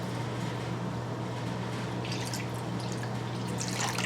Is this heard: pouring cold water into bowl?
yes